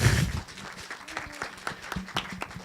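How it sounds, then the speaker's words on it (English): Applause rises from the audience at a game developers' discovery contest, scattered claps that swell briefly then thin out to sporadic hand claps in a large room. "They deserve some applause, I think, from you guys"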